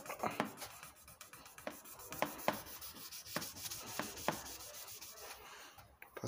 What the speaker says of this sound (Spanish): Después pasamos la lija 600.